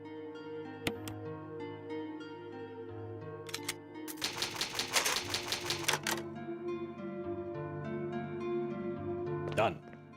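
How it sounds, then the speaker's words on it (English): Typewriter save sound from the Resident Evil 1 video game: a rapid, close burst of mechanical clacks lasting about two seconds, with a short extra rattle afterward, all over steady background music. "typewriter save."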